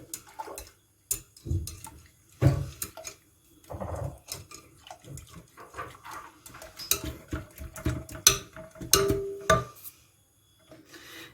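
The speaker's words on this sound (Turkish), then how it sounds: "ben çırpmaya devam ediyorum" A whisk works through a milk pudding mixture for supangle in a pot, giving irregular bursts of wet clicking and scraping strokes with short pauses between them, close and moderately quiet, no voices.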